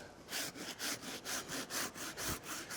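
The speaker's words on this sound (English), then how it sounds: "what we want to do is scrape till we start seeing the exposed rubber" A tool scraping plaster off a rubber casting for a miniature breakaway building, heard as steady, close, rhythmic rasping strokes, about eight in quick succession.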